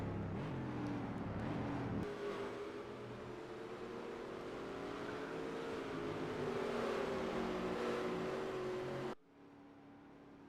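Race truck rolling down pit road at the Charlotte Roval during a truck series race, a steady moderately distant engine drone that cuts off sharply near the end, no talk.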